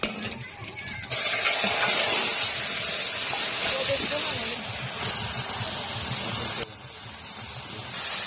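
Marinated chicken sizzles loudly in hot oil with whole cumin, dried red chillies, cloves, cardamom, cinnamon and bay leaves for dak bungalow chicken, a steady close hiss that swells and eases.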